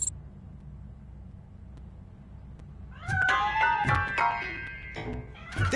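Cat hidden inside a piano in the video game RoboCop: Rogue City, letting out several loud, close meows and wails after a quiet stretch of low background hum.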